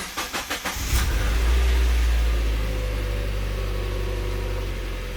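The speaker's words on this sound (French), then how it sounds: "on va déjà démarrer notre petit moteur" A Mazda Miata engine with 190,000 km on it, cranked by the starter in quick rhythmic pulses, catching with a loud rev, then settling into a steady, close idle.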